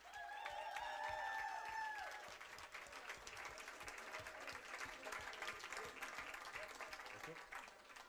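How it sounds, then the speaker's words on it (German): Audience applause for a performer at a televised show, a steady wash of clapping from a crowd lasting several seconds, with a brief musical tone at the start and voices mixed in. "großen Applaus für Helena"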